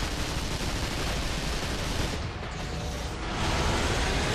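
Frag grenade explosion in the video game Vanquish, a loud, dense blast of boom and gunfire-like noise filling the whole span, with a brief dip in the middle before the roar swells again.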